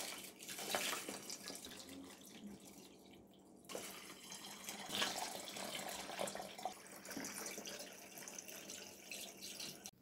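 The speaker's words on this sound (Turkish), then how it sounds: "Şimdi bunun üzerine de doluncaya kadar içme suyu koyuyorum." Drinking water pours into a jug of Adana-style turnip juice until it is full, a steady close splashing stream with brief breaks and changes in flow.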